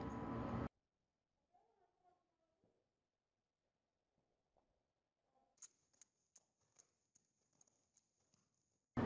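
Horse hooves trotting on the lunge in a riding arena, a regular run of soft, faint clip-clop beats after a stretch of near silence.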